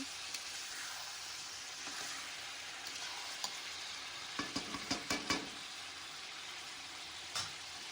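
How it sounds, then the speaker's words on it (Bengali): Chicken curry meat being stirred over and over in a hot pan, a steady close sizzle with a cluster of scraping stirring knocks in the middle and one more near the end, no voices. "একটু বারবার বারবার করে নাড়াচাড়া করছি"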